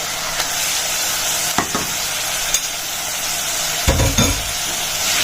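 Chicken liver sautéing in a clay pot with parboiled rice and gizzards, a steady close sizzle with a few scraping stir strokes and clunks against the pot.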